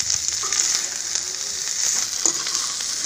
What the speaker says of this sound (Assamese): এইখিনি মোৰ প্ৰায় হৈ গৈছেগৈ পনীৰখিনি ভজা।